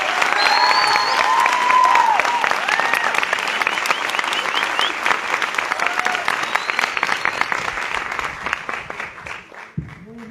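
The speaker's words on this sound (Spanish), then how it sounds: "Un aplauso para Rita" Warm applause for scholar Rita Segato before her keynote lecture on politics from women's perspective, a full crowd clapping with some cheering, long and sustained, gradually fading away near the end.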